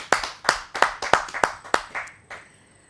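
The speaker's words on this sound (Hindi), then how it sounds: "आप सबकी जोरदार तालियों से।" At a Hindi poetry gathering, about seven loud, evenly spaced hand claps ring out close by in a slow, steady rhythm, then fade away.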